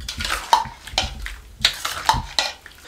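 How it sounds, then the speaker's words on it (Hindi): Mango pickle is stirred with oil in a bowl, a spoon scraping and clinking against the vessel in regular strokes about every half second, close and clear with no talking. "ये इस तरीके से, इस तरीके से सब चीज़ों को मिक्स कर देंगे।"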